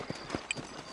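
Horse hooves clip-clopping in the Red Dead Redemption video game, set in New Austin: a few soft, separate hoof thuds at a slow walking pace, fairly quiet against a faint background.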